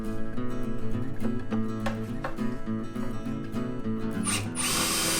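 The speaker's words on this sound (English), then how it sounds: "Make a pilot hole." A power drill bores a pilot hole into hardwood timber while building a simple TV stand. Its close, steady motor whine shifts pitch under load and rises sharply near the end.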